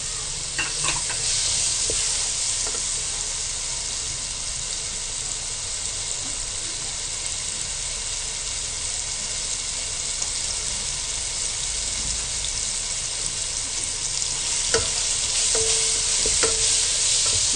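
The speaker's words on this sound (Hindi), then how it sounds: "अब कैरेट डाल देते हैं। हल्का सा कैरेट को फ्राई करना है साथ।" Carrots frying lightly in a pan for a spicy mixed-vegetable samosa filling give a steady, close sizzle that runs unbroken, with occasional clicks from a stirring spoon.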